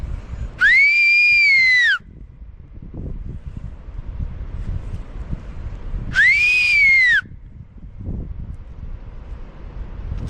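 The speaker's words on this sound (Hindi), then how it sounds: "थोड़ा सीटी वीटी बजा के उसको बुलाता हूँ आगे को।" Two loud, sustained whistles calling someone, each about a second long with a slight rise and fall, spaced several seconds apart over steady outdoor wind noise on a Himalayan trail to Pindari Glacier.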